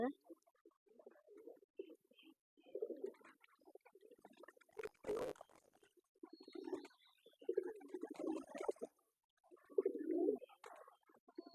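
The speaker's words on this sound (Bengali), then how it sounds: "কবুতর গুলো অনেক ক্ষুধার্ত" Pigeons in a loft at midday coo in repeated low, throaty phrases, close and moderately loud, with short pauses between bouts and one brief burst of rustling partway through.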